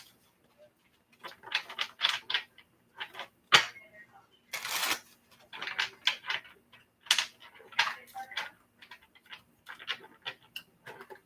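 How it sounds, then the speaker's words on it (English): Tarot cards being shuffled by hand, with quick bursts of crisp riffling and slapping in an uneven rhythm and brief pauses between shuffles, close and clear. "Last shuffle."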